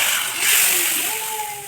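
Hot fenugreek and curry leaf tempering is poured into moru curry with a brief, close splash and sizzle. A faint high wail that sounds like a cat carries underneath.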